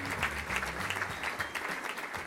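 Audience at a Columbus Metropolitan Club event applauding sponsors, a steady wash of clapping from a crowd that carries on throughout at a modest level.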